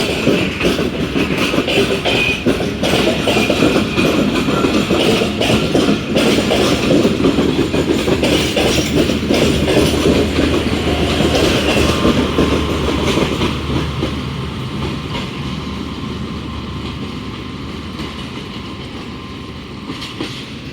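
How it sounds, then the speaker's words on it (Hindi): Tezgam, a long passenger express, rolls past a junction platform with dining car, air-conditioned and sleeper coaches, a loud steady rumble of wheels and clattering rail joints that slowly eases and fades as the last coaches go by. "तेज़गाम अब जा रही है"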